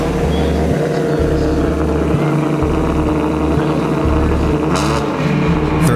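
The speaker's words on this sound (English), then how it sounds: "He revs his engine to bring it up to temperature." A race car at the start line of the Mt. Washington hill climb revs its engine repeatedly in a rhythmic on-off pattern, loud and close, warming up before its run.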